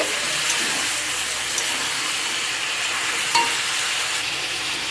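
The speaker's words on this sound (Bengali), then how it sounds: "ভালো করে 2-3 মিনিট ধরে প্রথমে চিকেনটাকে আমি এভাবে নেড়ে নেব।" Chicken being stirred in a frying pan, a steady sizzle with scraping and stirring noises throughout, close and moderately loud, with no talking.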